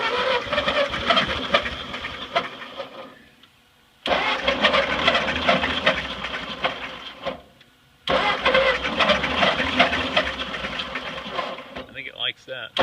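A Ford 8N tractor engine started at full throttle with no choke, running in loud, close, rough bursts that cut out twice briefly before catching again, with a voice heard faintly beneath.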